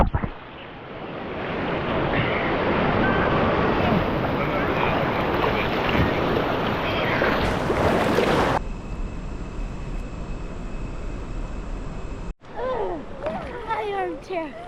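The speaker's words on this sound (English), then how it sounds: "Oh no, I hear a big rapid. You hear that?" Whitewater rapid roaring loudly around a raft, a dense rushing wash of water that cuts to quieter water noise and wind buffeting the microphone, with voices over parts of it.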